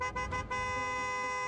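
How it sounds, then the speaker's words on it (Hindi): A car horn sounds in a few quick toots, then a steady blare from a nearby vehicle, loud and alone. "ये किसके हॉर्न की आवाज है?"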